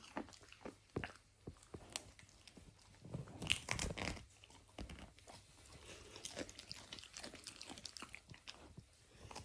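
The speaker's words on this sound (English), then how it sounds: "She's literally eating a cabbage leaf." A pet crunches a crisp cabbage leaf, with close, irregular bites and wet chewing throughout and a louder burst of crunching partway through.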